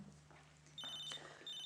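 A telephone rings faintly in a hotel setting, a quiet electronic trill in short repeated bursts over low room hum, no one speaking.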